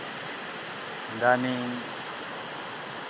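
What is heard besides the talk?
flowing water of Dilusong River bathing spot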